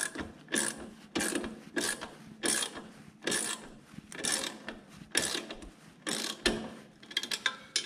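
A ratcheting tool drives carburetor screws on a Poulan Pro PR271 snow blower, with repeated bursts of close, loud clicking pawl ratchets in an even back-and-forth rhythm and brief pauses between strokes.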